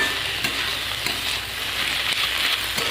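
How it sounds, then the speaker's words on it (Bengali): Bottle gourd curry with added sugar stirred in a sizzling pan, a loud close frying hiss broken by several regular spoon scrapes and taps. "চিনিতে একটু নাড়িয়ে নেব"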